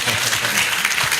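An audience at a business talk claps steadily, a dense, close wash of applause that holds at an even level throughout.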